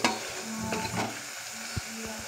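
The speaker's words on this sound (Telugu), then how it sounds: "ఇలా మనం అప్పుడప్పుడు కలుపుతూ ఉండాలి. ఇలా డీప్ ఫ్రై అయితే చాలండి." Herb leaves deep-frying in hot oil for homemade hair oil make a close crackling sizzle, broken by brief stirring scrapes and a couple of soft knocks of a spoon against the pan.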